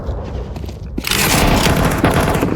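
Gunfire in the video game Counter-Strike, a quieter stretch of game ambience giving way to a loud, sustained volley of rapid shots and thuds close at hand, with no speech.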